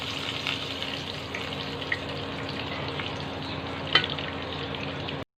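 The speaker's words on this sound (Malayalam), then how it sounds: "ഇതിലോട്ട് നമുക്ക് 1/2 കപ്പ് വെള്ളമാണ് ഞാൻ എടുത്തിരിക്കുന്നത്. ഇത് ഒഴിച്ചു കൊടുക്കാം." Half a cup of water hits a pan of fried garlic and sets off a steady, close hiss of sizzling that runs unbroken, with a small clink or splash near the four-second mark.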